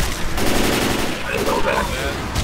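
Dense, continuous gunfire in the zombie shooter Left 4 Dead 2, loud and close, rapid overlapping shots with game effects layered in.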